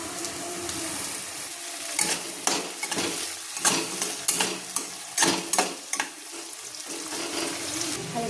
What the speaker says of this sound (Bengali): এখন আমি টমেটো কুচিটা দিয়ে দেবো